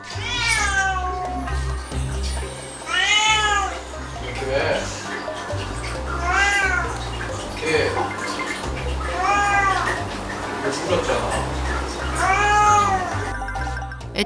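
A cat at a closed door meows repeatedly, drawn-out plaintive cries every couple of seconds, close by, while people talk quietly in between.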